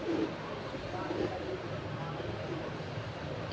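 A pigeon coos softly in a Punjabi pigeon-keeping setting in Bijnor, a low, faint, steady murmur sitting under background noise throughout.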